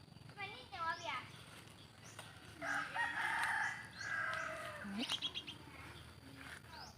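A rooster crows loudly in a rural Thai countryside yard, one long drawn-out call in the middle, with chirping birds and other fowl around and someone talking before and after.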